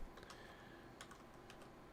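Keys tap on a computer keyboard in a quick, uneven run of soft clicks, faint and close against a low background hiss, with no talking.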